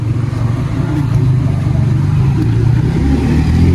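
A Kawasaki KLX supermoto, bored up with a 62mm piston and fitted with a BRT IMAX 2 Super Pro CDI, revs hard and steadily close by, its engine note sustained and loud throughout with no talk over it.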